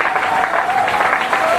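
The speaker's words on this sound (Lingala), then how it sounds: "Vous pouvez acclamer fort le Seigneur." A church congregation applauding, a dense burst of clapping close by with a sustained tone running underneath, lasting under two seconds.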